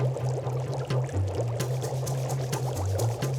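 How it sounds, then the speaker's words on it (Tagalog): Water pours into a pot of shellfish being cooked for a Cebuano Christmas meal, a continuous splashing trickle over a low humming tone, close and moderately loud. "Tapos susunod na po natin yung tubig para ma-absorb yung init sa shell."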